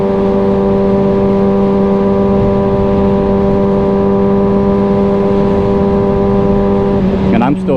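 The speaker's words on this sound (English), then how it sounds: "it sounds like it's spitting fire with every shift, especially when that exhaust gets warmed up" A 2022 Kawasaki Ninja ZX6R with a quick shifter rides along, its exhaust droning loud and steady at constant revs, with a brief change in pitch just before the end.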